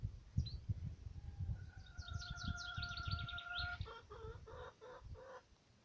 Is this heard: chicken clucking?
yes